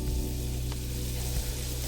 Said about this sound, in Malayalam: പാൻ വെച്ച് ചൂടായിട്ടുണ്ട്. ഇതിലേക്ക് ഞാൻ 1 പീസ് ബട്ടർ ഇട്ട് കൊടുത്തു, 2 ടേബിൾ സ്പൂൺ ഓയിൽ ഇട്ട് കൊടുത്തു.